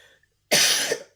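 A woman gives a single sharp cough, close and loud, after a moment of near silence, then it trails off quickly.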